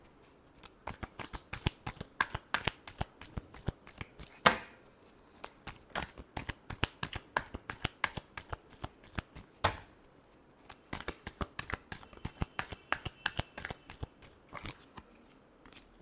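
Tarot cards are shuffled in quick, crisp riffling flicks, a dense run of soft close-up snaps with brief pauses between bursts and no voices.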